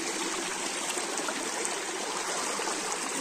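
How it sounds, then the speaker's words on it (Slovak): A rushing stream pours loudly and steadily, a dense, unbroken wash of water noise close by with no voices over it. "Tam už ide obrovská voda."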